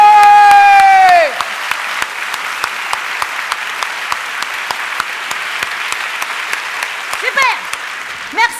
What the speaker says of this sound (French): Encore une fois avec des applaudissements.